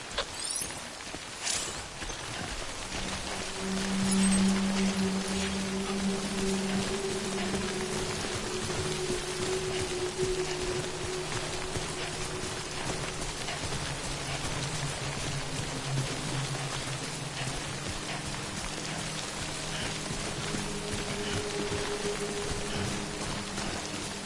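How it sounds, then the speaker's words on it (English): Rain falling in the video game Death Stranding, a steady patter of drops with a continuous hiss throughout, under low droning tones from the game's background. "Good thing it was raining."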